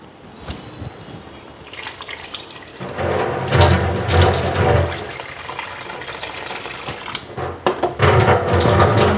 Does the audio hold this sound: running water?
yes